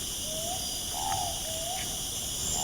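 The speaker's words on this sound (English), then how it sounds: "This is a call of an Andaman hawk owl," Repeated hooting call of an Andaman hawk owl, a few short rising-falling notes spaced in a steady rhythm, moderately clear over a constant high-pitched electronic hiss.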